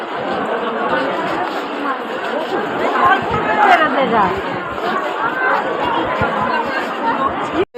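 Dense crowd chatter fills a busy local train station in India, many overlapping voices forming a steady babble that stays loud and continuous throughout, with no single speaker standing out.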